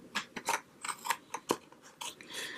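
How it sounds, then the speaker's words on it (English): Scissors snip carefully through a folded fabric pocket for a journal, giving a series of close, soft, irregular cuts with brief crunchy rasps and no voices. "And carefully cut this out."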